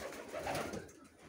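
Saxon pigeons coo inside a pigeon loft, one soft rolling coo swelling in the middle and fading, close and alone without any talk.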